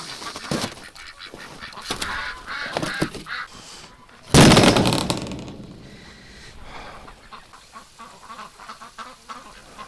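Ducks and geese on a farm in winter call out in a noisy flock, honks and quacks overlapping, with one loud burst of honking close by midway before the chatter settles back down.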